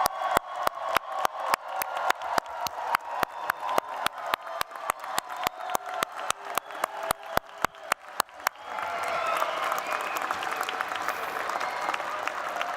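At a fall master's commencement, a standing crowd claps in unison for the graduates, fast, sharp, evenly timed beats for about eight seconds that then dissolve into a loose, continuous roar of applause.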